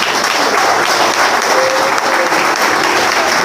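Sustained loud applause from a church congregation at a Pentecostal service, dense and steady throughout with a faint voice tone briefly above it.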